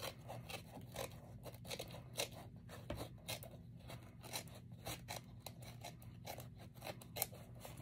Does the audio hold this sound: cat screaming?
no